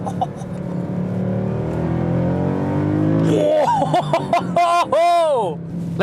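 A Mercedes-Benz C63 AMG engine held back by stability control, then revving hard through quick upshifts, its rising tone breaking into rapid gear-change sweeps. Someone talks over the engine throughout.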